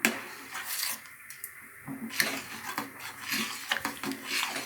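A spoon scraping and stirring a thickening mixture in a pot as it heats toward a boil, with repeated close metallic scrapes and rubbing strokes in an irregular rhythm, no voices.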